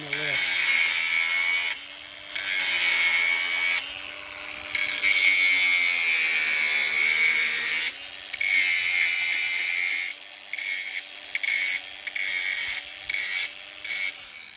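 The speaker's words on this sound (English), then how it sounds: "I'm going to lift it up in order to grind off that ledge" An angle grinder grinds a ledge flat on steel blacksmith tongs, a loud high whine in several bursts with brief pauses between passes, close by.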